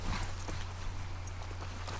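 Hooves of a horse clopping in The Last of Us Part II, faint and steady under a constant low game hum, with no voices.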